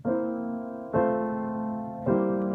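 Three sustained piano chords in the low register from Beethoven's Für Elise, played by the left hand, each struck firmly and left to ring before the next, slow and even.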